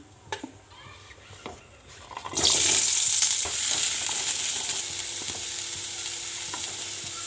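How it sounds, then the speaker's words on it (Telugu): Tomatoes drop into hot oil for mutton paya, and after a quiet start a loud, bright sizzle bursts up and holds steady, with occasional stirring clicks. "కొంచెం నూనె వేసుకొని టమాటా ఫ్రై చేసుకుందాం"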